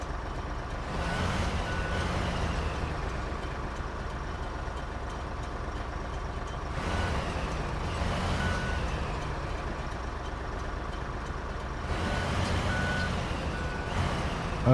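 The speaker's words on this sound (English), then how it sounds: "I can reverse this huge trailer out of here." In the Snowrunner video game, a truck reverses a huge trailer: steady reversing beeps repeat at a regular rhythm over a low, constant engine rumble, with no talking.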